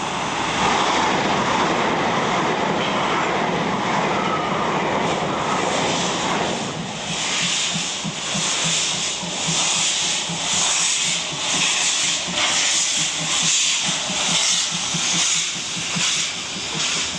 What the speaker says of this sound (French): nous allons à Radebulle pour assister au départ de petits trains à vapeur pour Radebourg